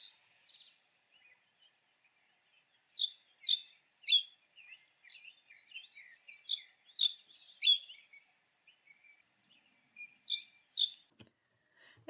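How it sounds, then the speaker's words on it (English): Reed bunting song outdoors: short phrases of simple high chirrups, usually two or three quick notes per phrase, repeated after pauses, clear and fairly close with quiet gaps between. "Reed bunting's song is simple chirrups, almost like they're counting to 3."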